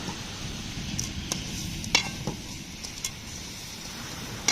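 Crab sautéing in a pan outdoors at night, with steady frying sizzle and scattered sharp clinks of stirring against the pan.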